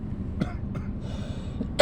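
A male lecturer coughing during a religious talk: a few short, muffled coughs, the last one louder and sharper, against quiet room noise.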